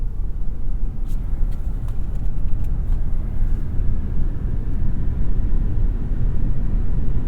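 A 2022 Ford F-150 Lightning electric pickup coasts to a stop at an intersection, with only a soft, steady low rumble of tires and road heard from inside, plus a few faint light clicks.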